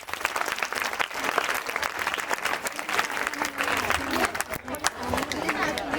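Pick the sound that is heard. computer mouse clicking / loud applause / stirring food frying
loud applause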